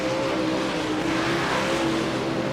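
Race cars on a dirt track in the World of Outlaws 24 video game give off a loud, sustained, close engine roar with a steady droning pitch and no break.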